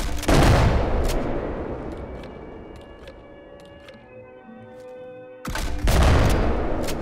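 China Lake grenade launcher fired in Fallout 4 at a close quarters range, booming explosive blasts with a long ringing, metallic decay between them, the blasts loud and close.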